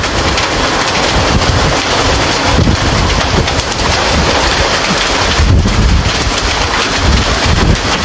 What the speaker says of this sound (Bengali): এখনও কিন্তু শিলাবৃষ্টি হইতেছে প্রচুর পরিমাণে